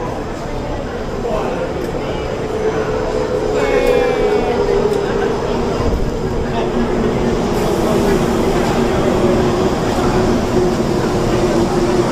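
Steady rumbling of a high-speed train in Taiwan, heard from inside, with a continuous whoosh and faint rattles, loud and even throughout, with voices talking under it.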